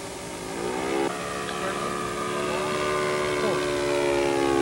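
A model aircraft engine drones loudly through an aerobatic maneuver. Its whining tone steps down sharply as the throttle is pulled back, then holds a steady, slightly wavering pitch.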